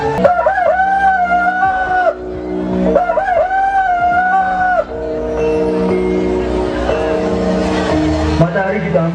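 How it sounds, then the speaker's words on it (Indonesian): Roosters crow at dawn in repeated long, rising-and-falling calls at a school camp event, loud and near, with other sounds and voices mixed in beneath. "Matahari sudah hampir terbit dan terdengar suara angin berkokok."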